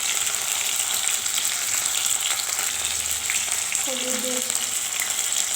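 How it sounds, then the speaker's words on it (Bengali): Boiled rice frying in hot oil with salt and turmeric, a steady close sizzle running throughout, with a brief voice near the end. "দিয়ে দিব বয়েল করে রাখা চালটা, দিয়ে দিব নুন হলুদ"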